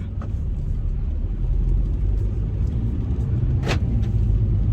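A car drives in the rain with a steady rumbling engine and road noise, with a brief swish partway through; wet-weather hiss may be mixed in.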